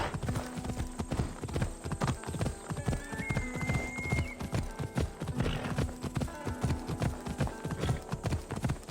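Phobos, a horse in Assassin's Creed Odyssey, gallops with a steady, loud clip-clop of hooves throughout, a whinny rising partway through over dense game sound and music.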